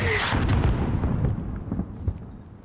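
Mortar fire in Call of Duty: Modern Warfare (2019), a single heavy boom with a deep rumbling tail that fades over a couple of seconds, loud and close.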